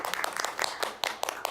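Sparse applause from a small group at a planning and zoning committee meeting, individual claps distinct and uneven rather than a full roar, fairly close in a quiet room.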